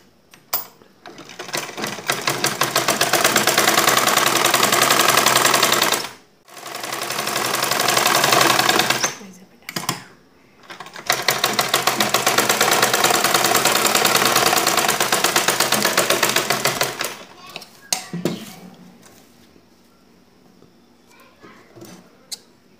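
A sewing machine stitches a fabric strip onto a nighty, running in long loud continuous bursts with short pauses between them, close and dominant before dropping away near the end.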